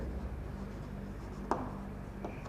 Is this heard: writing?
yes